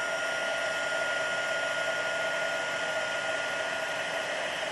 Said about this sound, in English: the heat tool is already hot. So it's just melting that super quick now.